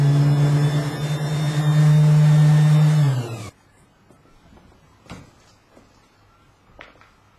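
A power sander works on a vintage oak cabinet being refurbished: a loud, steady motor drone with a strong hum for about three and a half seconds, then it cuts off, leaving faint knocks and small clicks.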